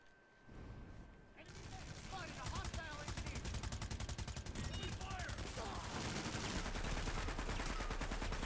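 Dense rapid gunfire from a Planetside 2 battle, with automatic weapons rattling continuously for several seconds alongside other shots and game effects, loud and close, while a player speaks briefly over it.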